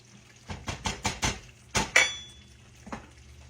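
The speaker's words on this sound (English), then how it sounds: "Stir it up." Spoon scraping and clinking against a pot while sour cream is stirred into beef stroganoff, about six close, sharp strokes in a quick run, then a pause and one fainter clink.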